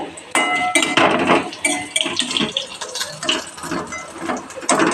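A spatula scrapes and clatters in a pan as fried cauliflower pieces are lifted out, a busy run of close metallic scraping and clinking that continues for several seconds without pause.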